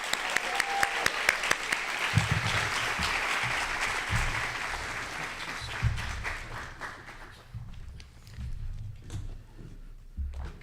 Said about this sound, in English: let's give a round of applause for our preeminent civil rights attorney, keynote speaker, Damon Hewitt.